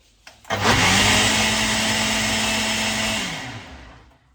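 A blender whirs loudly for about three seconds, mixing mango shake with ice cream, starting with a quick surge, holding a steady high-pitched motor drone, then winding down as it stops.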